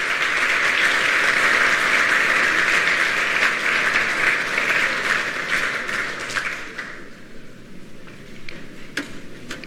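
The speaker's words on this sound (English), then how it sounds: "If you want to clap, you can clap now." An audience applauds at the end of a talk: dense, sustained clapping that stays loud for about six seconds, then thins out into a few scattered claps.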